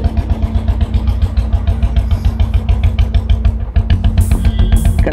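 A Royal Enfield Bullet motorcycle engine running close by, a loud, steady thumping idle of rapid regular low pulses with a brief dip in the beat midway before it picks back up.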